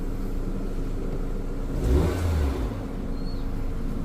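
A car engine running on an LPG gas conversion hums steadily, then revs up once in a short swell of throttle before settling back to a low idle, heard close with no talk.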